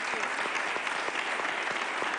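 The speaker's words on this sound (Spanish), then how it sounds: "un aplauso para él" A studio audience at a women's hip hop special applauds a young rapper, full sustained clapping with a few crisp claps near the front, and a voice faintly underneath.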